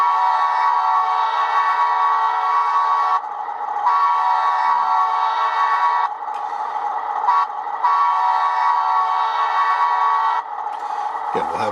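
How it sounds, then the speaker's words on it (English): Air horns from an HO scale Rapido Alco PA/PB locomotive sound decoder blare in long sustained chords, several blasts in a row separated by short gaps, loud and alone. "We have the various air horns."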